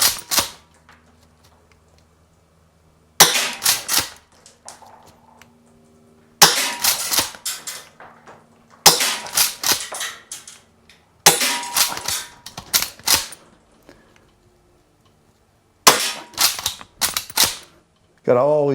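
Jag Arms SPX2 green gas airsoft shotgun firing six-round bursts, five or six rapid sharp cracking volleys spaced a few seconds apart, each a quick clattering string of shots, loud and close with quiet gaps between.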